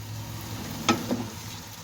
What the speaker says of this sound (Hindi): मैं साथ साथ मसाले डालती जा रही हूँ, साथ साथ ही गोश्त को भूनती जा रही हूँ।